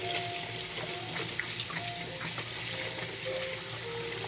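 Tap water runs steadily at a sink as metal piping tips get a quick rinse after being pulled from pastry bags, a constant close splashing hiss with faint clinks and no voices.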